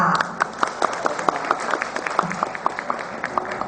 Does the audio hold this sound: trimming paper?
no